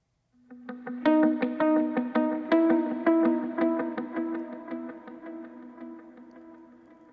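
An electric guitar picks a run of bright notes, each ringing out with echoing repeats and a spacious reverb tail that slowly fades away.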